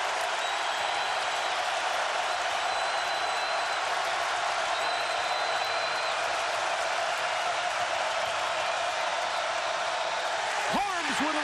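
A college basketball arena crowd at Purdue, hosting Ohio State in February 2018, roars in a loud, steady, unbroken wave of cheering for the full stretch, dense and close, with a few whistles rising above the din.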